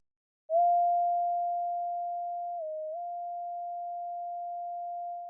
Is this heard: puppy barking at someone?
no